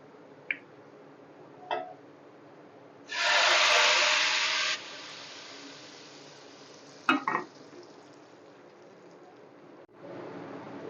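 A loud burst of sizzling hiss lasting under two seconds as hot tempering is poured into cooked moong and masoor dal, with a few faint clinks before and after and a quieter hiss returning near the end.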